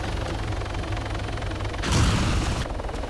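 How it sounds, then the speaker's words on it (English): A helicopter crashes in the ArmA 3 video game: a steady rotor and engine drone, then a sudden loud crunching impact burst about two seconds in that lasts under a second before the drone carries on. "I broke my helicopter again."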